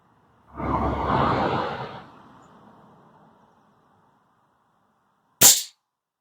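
An Air Arms TX200 HC Hunter Carbine spring-piston air rifle fires one sharp, close crack, preceded by a soft rushing swoosh and a quiet pause.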